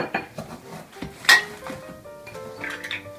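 A utensil scrapes and clinks against rock-solid brown sugar in a kitchen bowl, with several sharp irregular knocks and scratches, one loud clack in the middle, close and clear with no talking.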